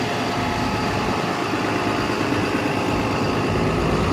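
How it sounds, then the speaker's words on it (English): A Ford F750 forestry bucket truck with a 6.7 liter Cummins diesel idles close by, a steady, loud, even rumble with a dense low clatter that holds unchanged the whole time, with no talking. "Let you hear the motor a little bit."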